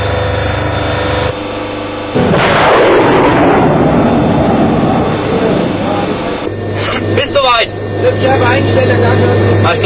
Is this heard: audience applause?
no